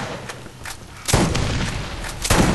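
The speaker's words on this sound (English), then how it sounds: "It shoots rockets, apparently." Shotgun firing rockets in the shooter game Borderlands: a few loud booming blasts, one sharp burst about a second in and another near the end, over a steady background rumble.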